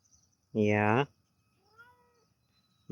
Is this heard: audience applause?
no